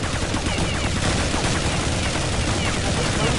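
Dense, loud gunfire from the video game Counter-Strike 1.6 in jailbreak mode, with rapid overlapping shots and bursts that fill the whole moment without a break.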